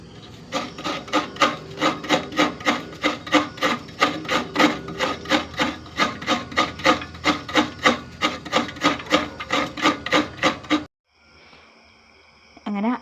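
Rhythmic rasping strokes of coconut being scraped on a hand grater, about two per second, loud and close for about eleven seconds, then they stop and a faint bit of other sound follows.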